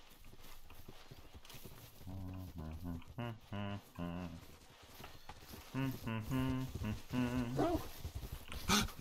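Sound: dog in the video game theHunter: Call of the Wild

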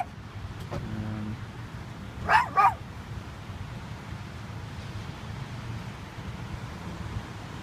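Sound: dog barking while locked in a car

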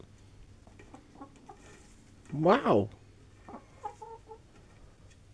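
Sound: chickens clucking

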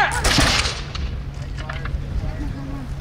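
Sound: 1770s muskets fired in drill volley

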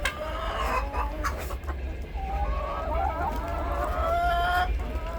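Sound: chickens clucking in the yard

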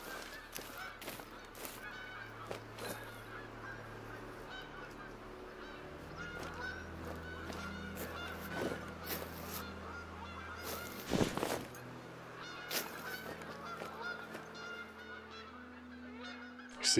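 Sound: geese honking in video game theHunter: Call of the Wild

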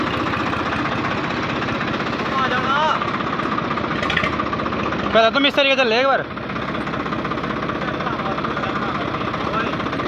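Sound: tractor engine running

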